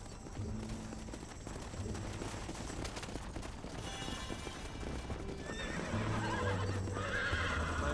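Horses gallop in Red Dead Redemption with a continuous rapid clip-clop of hooves, punctuated by neighs and whinnies, while distant gunfire crackles in the background.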